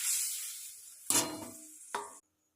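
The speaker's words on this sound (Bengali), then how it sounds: "মশলাটা দিয়ে ভালো করে কষে নেব" Meat fries with spice paste and tomato in a pan, a close sizzle broken by two scraping stirs before the sound cuts off abruptly.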